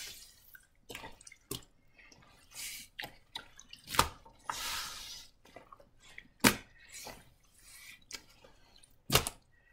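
Grated zucchini wrung out by hand, giving scattered wet squelches and drips of water, soft and close, in irregular bursts with quiet gaps between them.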